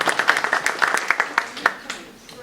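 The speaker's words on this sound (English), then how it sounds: "just give her a round of applause" A meeting audience applauds together, a burst of clapping that is loud at first and then thins out and fades over about two seconds.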